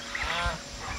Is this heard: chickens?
yes